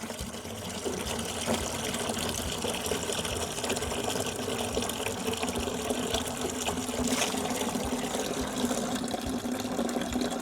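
Water rushing and draining as pressure is released from an RV's plumbing system during winterizing, a continuous, even gushing flow with no pause, fairly close and steady throughout.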